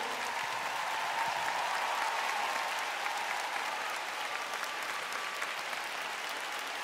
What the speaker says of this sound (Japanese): 我々にファンタジーを見せてくれた全てのスケーターに今一度盛大な拍手を。